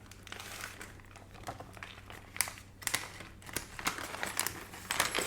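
Heavy metal handcuffs made in Taiwan are handled close up, giving faint continuous clinking, rattling and crinkling with occasional sharper metallic clicks over a low hum.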